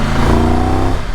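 A Triumph Tiger 1200 GT Explorer motorcycle engine revs with a steady, strong mid-range drone, held loud and close before it drops off near the end.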